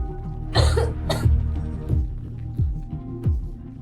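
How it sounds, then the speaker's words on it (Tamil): A woman coughs harshly a couple of times close by from the cold, followed by softer throaty sounds over a low rhythmic throbbing backdrop. "அந்த பெண்ணுக்கு குளிரால் இருமல் வர ஆரம்பித்தது"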